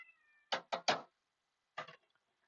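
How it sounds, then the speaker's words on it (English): A kitten demands attention with short, close, clear meows: three in quick succession, then a pause and one more, with nothing else in the background. "If you hear meowing, it's one of my kittens demanding attention."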